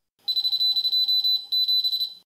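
A high electronic buzzer beeps in a rapid on-off pattern of short and longer tones, Morse code of the scene and take number, loud and close.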